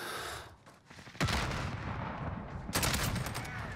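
A weapon fires in a shooting video game as two loud sustained bursts of rapid gunfire with short pauses between them. The shots are close and harsh over a constant background rumble, and nobody talks.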